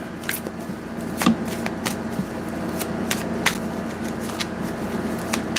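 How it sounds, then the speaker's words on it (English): Tarot cards are riffled and shuffled by hand in a repeated series of crisp flutters and soft taps, close and clear over a faint steady background hum. "These cards have never shuffled well to me."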